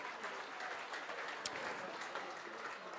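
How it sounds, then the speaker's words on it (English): Round of applause from an audience at an evening event at a wharf venue in Port Fairy, steady moderate clapping heard from a distance with a murmur of voices. "Round of applause for Stacey for all the photography"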